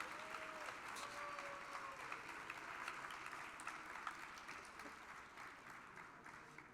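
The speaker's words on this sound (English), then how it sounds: "Clap as long as you want." An audience at a security conference talk applauds for several seconds, a steady, even wash of many hands clapping at a moderate distance with no voices over it.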